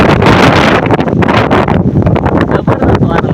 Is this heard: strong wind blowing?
yes